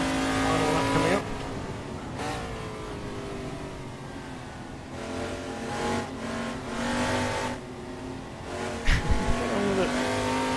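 A racing car in the Assetto Corsa sim game at a Goodwood Revival event screams at full throttle out of a chicane, its engine note climbing through gears, with brief tire squeal near the end and an occasional voice over it.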